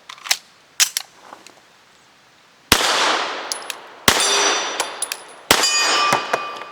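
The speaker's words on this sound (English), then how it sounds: "We're starting off super heavy, 165 grain subsonics." Arex Rex Zero 1 pistol firing heavy 165-grain subsonic rounds, a few loud, sharp reports spaced seconds apart, each with a metallic clang and ringing tail, opening with a couple of fainter clicks.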